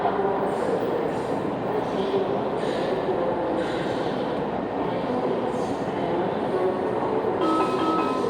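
Inside a WMATA 6000 series Alstom Yellow Line metro car, a loud continuous rumble of wheels and motors with faint rhythmic clacks and brief high squeals, steady throughout with no talking.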